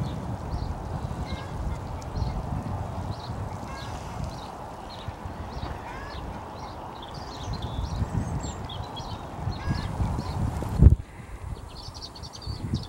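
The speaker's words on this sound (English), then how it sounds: "there was a hen over there and it was making a hell of a racket" A hen clucking loudly on an allotment, a repeated rising racket of calls carrying from a short distance over rustling outdoor background noise, with one sharp knock near the end.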